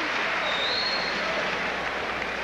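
Basketball crowd at Duke applauding as an injured player is helped off the court during a 1984 college game against Virginia; steady, broad applause fills the whole moment at moderate distance, with no distinct voices standing out.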